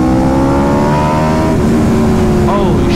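An Aprilia RSV4 motorcycle fitted with an SC-Project CR-T exhaust accelerates hard on a street, its loud, close engine roar climbing steadily in pitch with wind noise throughout.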